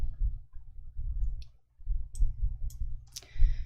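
A computer mouse clicking to confirm a setting in Excel, several sharp close clicks over a low hum.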